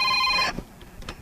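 A telephone rings with a steady electronic tone for about half a second, then cuts off abruptly, leaving faint room noise and brief soft sounds.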